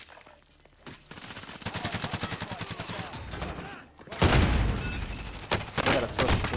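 Sustained machine-gun fire in Call of Duty: Modern Warfare Warzone rattles through most of the clip, then a louder heavy burst erupts near the end, close and intense.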